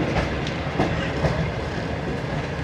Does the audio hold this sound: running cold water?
no